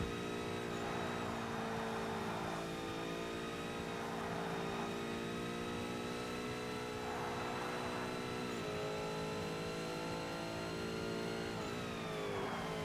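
A turbocharged car in the racing game Forza Motorsport drones and revs under load, its engine pitch climbing and stepping through gear changes in a steady, close, continuous roar.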